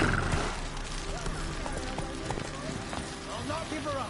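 Roach the horse galloping in a video game, steady clip-clop hoofbeats and an occasional whinny, mid-distance and continuous, under a man's speech.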